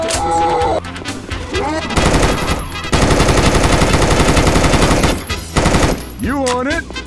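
Loud, sustained automatic gunfire from the video game Left 4 Dead 2 rattles in long continuous bursts, with game character voices shouting at the start and end.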